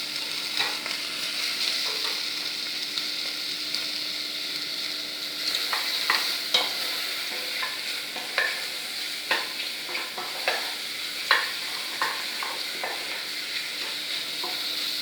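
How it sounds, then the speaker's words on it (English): Mushrooms sautéing in a pan give a steady sizzle and frying hiss, broken by scattered clicks and scrapes of stirring throughout, with no talk. "Just let these saute, these two are stuck together."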